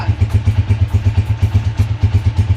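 A motorcycle engine, hand-started after a month of sitting unused, idles close by with a steady, fast, slightly uneven chugging pulse and mechanical clatter, loud and alone.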